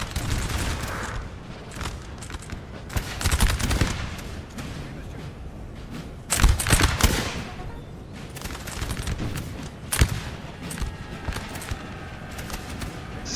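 Massed musket volleys and booming artillery fire from a Napoleonic battle in Napoleon: Total War, dense and continuous with loud bursts and crackling fusillades, no talking.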